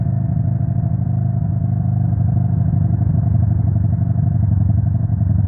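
A motorcycle engine running at a steady idle, loud and close, with an even low throb and a fast regular pulse that holds unchanged throughout.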